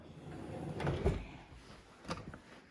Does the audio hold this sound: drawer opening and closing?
yes